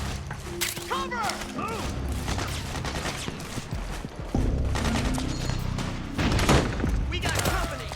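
Gunfire bursts and explosions in Metal Gear Solid 4, rattling volleys and heavy booms under shouted voices and game chatter.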